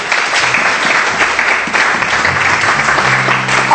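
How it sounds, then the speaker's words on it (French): Loud, dense applause from a church congregation fills the space, a thick, unbroken roar of many hands clapping, with faint low tones creeping in near the end. "Applaudissez le Père Jéhovah."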